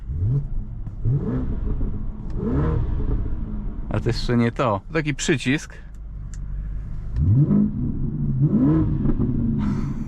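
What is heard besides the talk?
car engine revving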